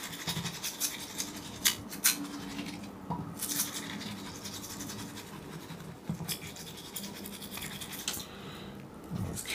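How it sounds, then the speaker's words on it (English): An old toothbrush scrubs a fountain pen feed in a bowl of soapy water, giving close, quiet, rapid scratchy bristle strokes in uneven bursts with faint wet clicks. "I'll clean the nib with this old toothbrush,"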